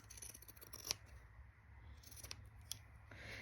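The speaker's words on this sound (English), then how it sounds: "I have pinking shears, so I'm going to start at my stitches, and I'm just going to cut them with these all the way around" Pinking shears snip through fabric around sewn stitches, giving a few faint, crisp cuts spaced out over a quiet background.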